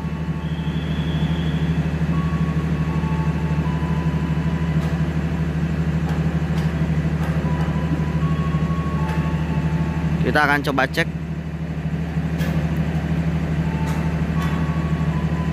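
A train approaching Kutoarjo station at night, a low steady rumble and hum holding throughout with a brief burst of loud metallic squeal partway through, while a person talks over it.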